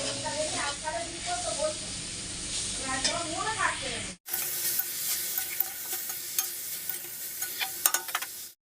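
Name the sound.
frying food on high gas flame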